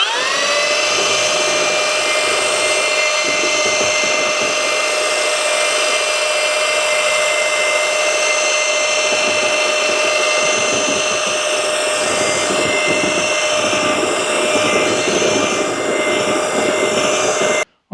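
A drill mixer churns drywall knockdown texture mud tinted pink with chalk, a loud sustained high-pitched motor whine that runs steadily for the whole stretch and cuts off abruptly at the end.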